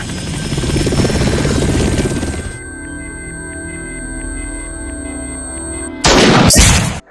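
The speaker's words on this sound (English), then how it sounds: "what's a Russian gunship doing here?" A Russian gunship helicopter from the Metal Gear game trailer thunders loudly with steady rotor chop, then drops to a lower droning hum before a sudden heavy blast near the end.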